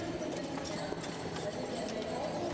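Draft horses pulling a show hitch in an arena finals round clatter their hooves in a dense continuous clip-clop, heard within loud crowd and arena noise.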